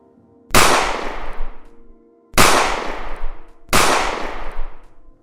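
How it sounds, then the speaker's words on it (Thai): Three loud firecracker-like bangs, evenly spaced about a second and a half apart, each a sharp close crack with a ringing, decaying tail, heard alone against a quiet low hum. "ตามมาด้วยเสียงที่ดังเหมือนกับประทัดอีกประมาณ3 ครั้ง"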